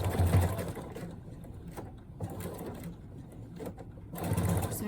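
A sewing machine slowly stitches bias binding around the curved top of a pouch pocket, with close mechanical whirring that runs in bursts, pausing and restarting.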